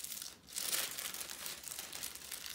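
Kite paper being cut and handled while a kite is repaired makes a brief, close run of crinkling and rustling with a short sharp crackle.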